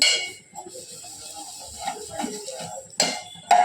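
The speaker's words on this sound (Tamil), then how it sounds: "சேமியா நல்லா வறுபட்டுச்சு. நான் பவுலுக்கு மாற்றிட்டேன்" Roasted vermicelli tipped from a pan into a bowl, with several sharp clinks of metal cookware and utensils, two loud knocks near the end, over soft scraping and faint background hiss.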